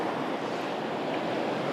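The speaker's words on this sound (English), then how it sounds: "the way that the waves are rolling over it so nicely" Ocean waves roll over and cascade off the edge of a rock slab, a continuous loud broadband wash of surf with wind noise and no voices.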